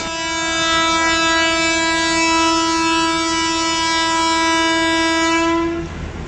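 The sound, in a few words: train horn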